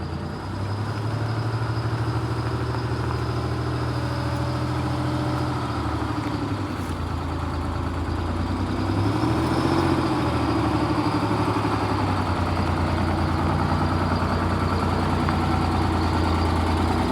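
Detroit Diesel 6V71 two-stroke engine in an MCI 5C coach idles steadily and loudly up close, a constant droning rumble with a brief rise in revs midway before holding steady again.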